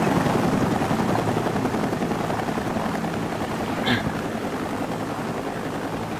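Helicopter in the video game Sniper: Ghost Warrior, a steady droning rotor thrum held at a constant level throughout, with a brief faint blip partway through.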